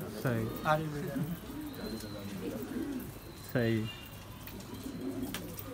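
Soft, repeated cooing from a group of about 25 to 30 kept pigeons, two clear rolling coos heard close by under a man's quiet speech and faint chirps.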